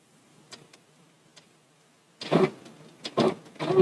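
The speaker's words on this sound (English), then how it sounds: "The machine will stitch the basting box first." A Brother PR1055x embroidery machine stitches a basting box: a few faint ticks at first, then louder rapid mechanical stitching bursts, close up and alone.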